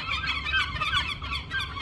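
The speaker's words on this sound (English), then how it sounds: "Hear what the Seagulls are doing right now?" Seagulls at a pier squawk in a steady overlapping ruckus, several harsh calls repeating close by over low background rumble.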